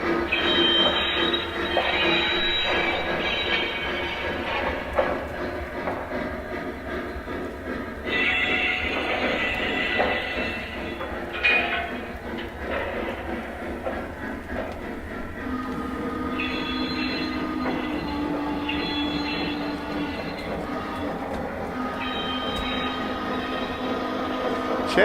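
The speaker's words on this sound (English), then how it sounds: "Let me know if you guys can hear the locomotive and everything." A Lionel model steam locomotive runs with its steam effect on, giving a steady, busy mechanical rumble and hiss with brief whistle-like tones that come and go, fairly close and with no talking.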